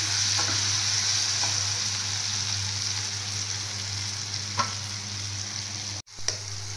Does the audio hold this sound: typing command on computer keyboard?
no